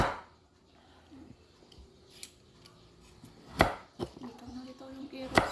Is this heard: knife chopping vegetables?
yes